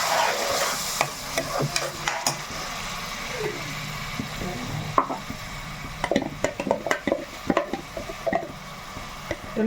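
Onion and tomato paste with masala frying in a pan for a chicken feet paya curry, a steady sizzle broken by repeated scraping stirs that turn denser toward the end, with faint voices in the background.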